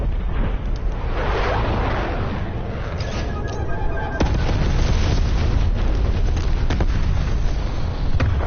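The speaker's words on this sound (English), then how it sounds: "Deploy napalm strike on my grid." A napalm strike in a PS4 shooter game erupts as a loud, sustained roaring explosion with crackling bursts, a sharp boom near four seconds followed by continuous fiery rumble to the end.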